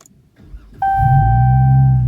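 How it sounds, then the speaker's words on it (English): A car engine starting, with a brief low crank and then an abrupt catch into a loud steady idle, joined by a sustained two-tone chime, all close by. "I guess I'll need to crank my car."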